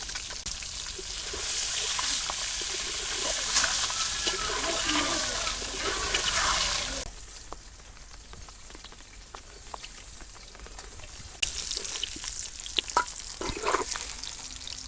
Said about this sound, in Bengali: ডিম ভাজা হয়ে গেছে আর ডিমগুলো উদয় নেই